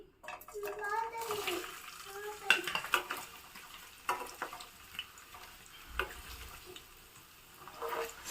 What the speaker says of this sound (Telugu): ఈ పన్నీర్ ముక్కలు వేసుకుని వేయించుకోవాలి